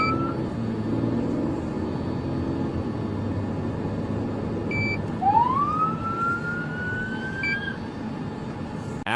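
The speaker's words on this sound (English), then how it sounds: "they activated their emergency lights and sirens multiple times" A distant police car siren wails upward and holds over a low traffic rumble, with a couple of brief electronic chirps, fairly faint.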